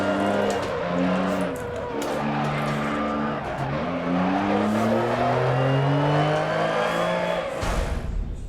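Damaged Lancia Stratos rally car in Dirt Rally on a Monaco stage, engine droning loud and close with rising and falling revs through gear changes, steady throughout before cutting off near the end.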